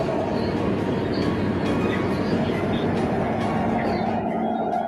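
Subway train standing at a station, a steady loud rumble and hum of rail cars filling the whole stretch, with a faint voice announcement mixed in.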